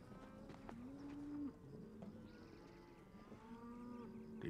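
Cattle low and moo on an open range, a few drawn-out calls from nearby animals, one long moo followed by shorter, fainter bellows over a quiet outdoor background.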